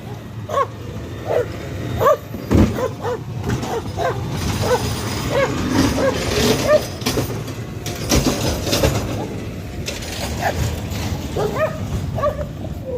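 Several dogs bark and yip repeatedly at irregular intervals, fairly close and loud, over the rumble of passing train cars beside the tracks.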